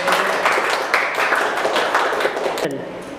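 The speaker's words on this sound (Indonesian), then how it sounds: "tepuk tangan untuk kelompok B" Students in a university classroom applaud a presenting group, a lively burst of clapping that stays fairly loud and then cuts off abruptly near the end.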